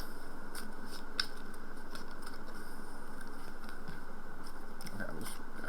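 A new tarot card deck is shuffled in steady, rapid papery riffling and flicking, close and continuous, with no talking.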